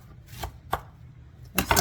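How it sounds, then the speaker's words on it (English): A knife gives food a rough chop on a cutting board for an Italian sandwich, with three distinct bursts of chopping, the last a quick double strike, close and fairly loud, with no talk. "Then I'm gonna give it a rough chop here."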